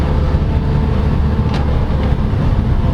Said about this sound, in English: So let's take a corner really fast.